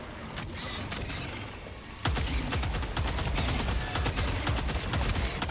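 Rapid automatic fire from the Tenderizer rifle in Helldivers 2 on Helldive difficulty, a dense run of sharp shots that grows louder and heavier after a brief lighter stretch, continuing steadily to the end.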